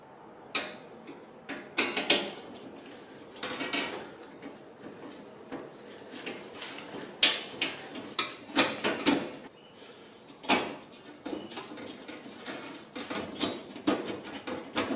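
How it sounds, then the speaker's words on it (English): Phillips head screws being backed out of a gas stove, heard as a string of small metallic clicks, taps and scraping handling noises up close, with no talk. "There are two Phillips head screws right here that have to be removed, so I'm going to remove them."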